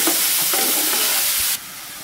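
Ginger, garlic and onion paste with tomato frying and being stirred in a pan, a steady close hiss with soft stirring scrapes that drops abruptly quieter near the end.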